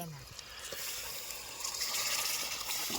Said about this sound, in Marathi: मस्त पाणी आपण ओतून